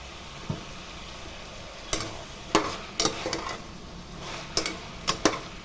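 Asafoetida spits and crackles in hot oil in a pan while a bisibelebath dish is cooked. A steady low sizzle runs throughout, broken by several sharp metallic scrapes and taps of a spatula stirring against the pan.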